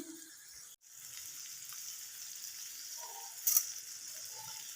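Tomato and spice masala sautés in a pan for a mushroom and potato curry, a quiet steady sizzle with a brief cut-out near the start and one short clink of a utensil.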